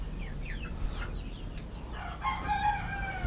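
Chickens on a small farm clucking, with a rooster crowing near the end over a soft outdoor background; no talk.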